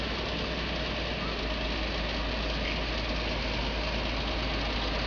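A steady, rumbling 230-horsepower diesel engine of a Landini 7230 tractor runs continuously at a constant idle, loud and close, with no breaks.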